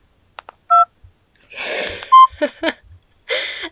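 A toy telephone plays a few electronic dialing tones, each a short, clean beep, with soft clicks, breathy rustling noises and a couple of faint thumps in between, all close by.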